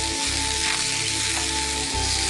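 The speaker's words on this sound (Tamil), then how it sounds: "இந்த வாழைப்பூவையும் தேங்காவோட சேர்த்து வதக்குங்க." Banana flower sautéing with coconut in a pan, a steady, close sizzle and hiss running throughout with a low hum beneath and no voices.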